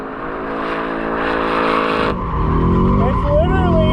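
Ford Mustang drifting on a vehicle test pad with an electric handbrake, engine droning steadily before tires break into a loud, wavering squeal that rises and bends, with voices talking over it.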